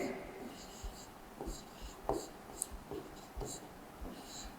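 Letters are written on a board during a Hindi grammar class, with a series of short scratchy strokes and taps spaced through the clip and a faint voice in the background.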